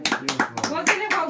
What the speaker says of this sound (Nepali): दुईजनाले ताली बजाएको